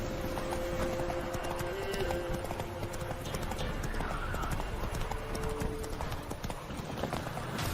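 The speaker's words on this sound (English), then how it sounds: "Come on. Run, Roach." Roach the horse gallops in The Witcher 3, with a fast, steady clip-clop of hooves and an occasional whinny over continuous game ambience.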